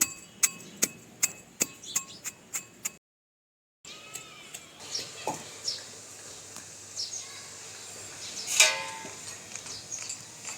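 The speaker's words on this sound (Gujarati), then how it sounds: "આ ગાંઠિયાને આપણે સરસ રીતે ખાંડી લઈશું." Gathiya, a fried gram flour snack, being crushed in a mortar for chilli bhajiya stuffing: a run of sharp, evenly spaced pounding knocks, a brief silence, then scattered softer crunching and tapping close by.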